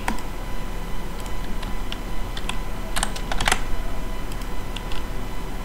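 Someone types a nickname on a computer keyboard: a quick, irregular run of close key clicks with a brief denser burst midway, over a steady background hum.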